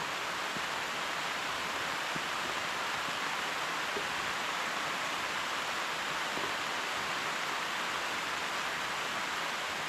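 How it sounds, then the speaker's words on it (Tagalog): Continuous rain, an even hiss of steady rainfall across the whole stretch with no pauses, fairly faint and without voices. "Walang tigil ang ulan."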